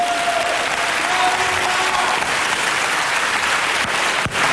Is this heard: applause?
yes